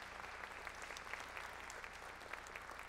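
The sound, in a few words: audience applause at a jazz concert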